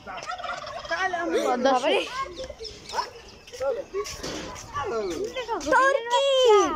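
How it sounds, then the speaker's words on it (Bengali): Turkeys gobble in bursts while a person and children chatter nearby, the warbling calls rising over the voices. "Turkey, turkey, turkey, turkey, turkey, turkey, turkey."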